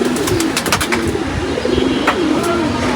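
Pet pigeons coo steadily and close by in a low, repeated rolling burble, several birds overlapping with brief chirps and no talk.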